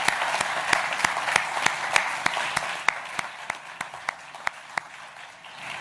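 Audience applause at a groundbreaking ceremony for a new battery separator facility, a full steady roar of many hands clapping, with a few louder individual claps standing out rhythmically near the front.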